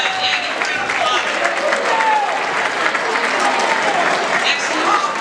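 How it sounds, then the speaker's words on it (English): School honor roll assembly audience applauding steadily, a dense continuous wash of clapping at close-to-moderate distance with some crowd voices mixed in. "Yeah, give a round of applause."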